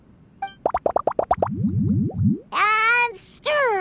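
Cartoonish ingredients plop one after another into a drink in the Genshin Impact video game, a quick run of bright drops followed by bubbly gloops, then rising and falling bubbling swirls, loud and close with no talk.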